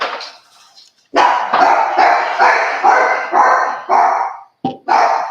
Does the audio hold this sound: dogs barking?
yes